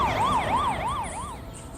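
A police siren from an audio story wails in a loud, rising and falling pattern, repeating about three times before trailing off, with a faint vehicle rumble underneath.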